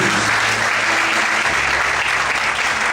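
A church congregation applauds loudly and continuously during a sermon, a dense, sustained wall of clapping that fills the whole stretch at a steady level.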